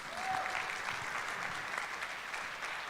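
Attendees at a justice conference in Mexico City applaud, a steady, even wash of many hands clapping at a moderate distance, holding constant for three seconds with no talk over it.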